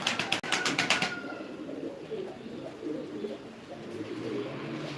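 Diyarbakır tumbler pigeons coo softly in low, burbling phrases that repeat throughout, after a few brief sharp sounds at the start.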